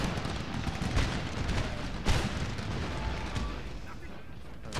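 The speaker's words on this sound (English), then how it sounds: "Everyone's shooting." Soldiers firing muskets in the video game Empire: Total War, a dense, continuous rattle of massed shots with a few sharper cracks standing out over the steady battlefield roar.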